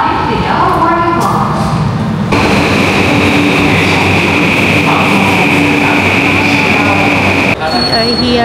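A train at a Tokyo station rumbles loudly in the foreground, with a high steady whine and brief squeals and tones above it, while people talk nearby.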